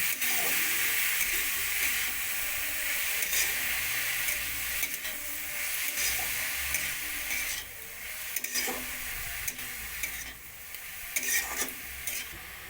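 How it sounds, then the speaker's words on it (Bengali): Grated carrot frying in ghee, sizzling continuously and close up, with scraping strokes from regular stirring breaking through the steady hiss. "গাজরটাকে মাঝে মাঝে নাড়াচাড়া দিয়ে ভালো মতন ভেজে নিতে হবে"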